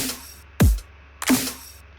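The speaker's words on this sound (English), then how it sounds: "there's a little click right before the second snare." A kick and snare drum loop plays a booming kick, then a snare that is preceded by a tiny sharp click, two strong isolated hits with quiet gaps around them.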